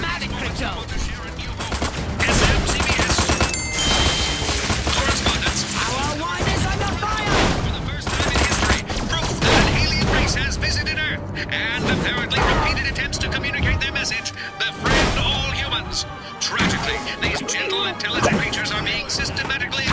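Army gunfire during a battle in the Destroy All Humans video game, with rapid bursts of shots and booming blasts going on continuously, loud and dense, under voices shouting.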